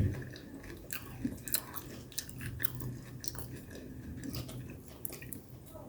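A person chews a crunchy banana snack close to the mic, with repeated wet crunching and biting sounds in an irregular rhythm and faint voices in the background.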